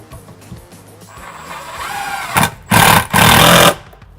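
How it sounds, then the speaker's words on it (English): A power drill drives a screw through a live edge timber shelf into a wall stud, rising from a quieter lead-in to two loud, close bursts of whirring, the second longer, with a short pause between them. "I'm going to drive my first screw in."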